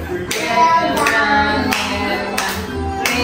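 A child claps hands at home in a short series of sharp, spaced claps, loud and close, over a low background murmur.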